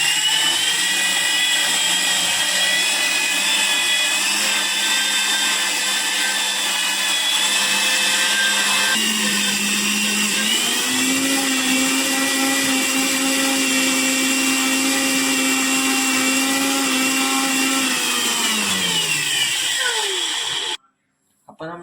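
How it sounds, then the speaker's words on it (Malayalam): An electric mixer whirs loudly and continuously as it blends a milkshake made with Boost, its pitch rising partway through, before it cuts off abruptly at the end. "അപ്പോൾ നമ്മളിനി മിക്സ് ഓൺ ചെയ്ത് അടിക്കാൻ പോവാണ്"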